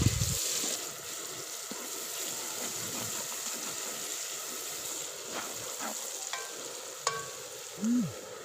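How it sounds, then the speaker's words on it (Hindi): A chopped medium-sized onion fries in hot oil with a steady, soft sizzling hiss, while a spoon stirs and scrapes the pan now and then, close up and with no talk. "अब इसी ऑयल में एक अदद दरमियाने साइज़ का कटा हुआ प्याज जाएगा और 1 से 2 मिनट के लिए प्याज को अच्छी तरह पका लेंगे।"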